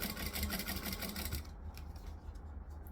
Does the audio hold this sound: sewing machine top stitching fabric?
yes